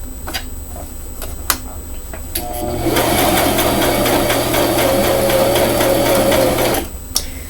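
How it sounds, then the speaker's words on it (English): A sewing machine stitches un-ironed pleats into a pink frock, running steadily and close for about four seconds after a few faint ticks and clicks, then stopping. "sewing pleats are always a little difficult if they are not ironed in"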